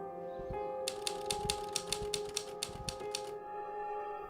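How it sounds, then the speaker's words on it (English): A typewriter clatters steadily in The Novelist video game, with a quick, even run of close key strikes over a low room hum and no voices. "I can hear the typewriter."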